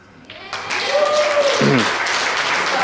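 Applause from a snooker crowd at a Mick Hill v Jake McCartney exhibition match, swelling in quickly and holding steady as sustained clapping, with a commentator's voice heard over the start.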